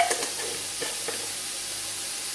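Beef mince sauce with basil and oregano sweating in a pan, a steady close hiss of sizzling with a couple of soft stirring scrapes near the start.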